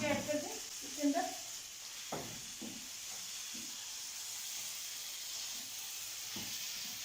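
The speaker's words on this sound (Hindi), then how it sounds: "ये देखिए यहाँ पे मैं सब्ज़ मिर्ची ऐड कर दूँ इसके अंदर।" Green chillies are tossed into a hot pan and stirred for chicken jalfrezi, giving a steady close sizzle with a few scraping stir knocks, and a voice speaks briefly at the start.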